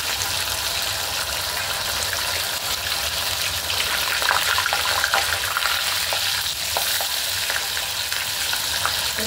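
Fish pieces coated in rice flour fry in hot oil, a steady, dense crackling sizzle held close and loud throughout, with occasional faint stirring scrapes and no talk.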